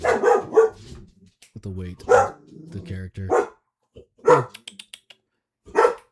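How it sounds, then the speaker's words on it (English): A pet dog barks in a series of sharp, repeated barks at close range, interleaved with someone talking. "That is my dog barking."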